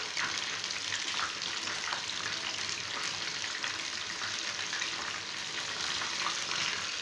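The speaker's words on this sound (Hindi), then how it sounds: "चिकन को फ्राई होते हुए 2 मिनट हो गए हैं" Coated chicken pieces frying in hot oil, a dense, steady sizzle with crackling pops throughout, close and moderately loud with no voices.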